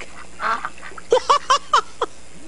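A duck quacks five times in a quick, evenly spaced run, close and fairly loud, following a brief murmur of sound, with no talking over the calls.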